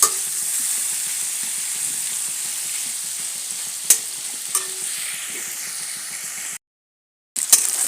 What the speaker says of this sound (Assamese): অকণমান ভাজি লৈছোঁ বাটাৰতে,